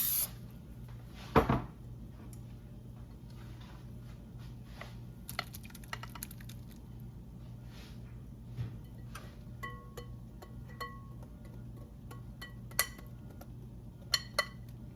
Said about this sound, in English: Now I've got my 2 smaller pans that I'm going to use.